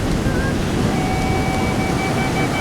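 Ocean surf on the Banten coast, at a surfing beach, makes a steady broad roar of breaking waves with wind, loud and continuous throughout.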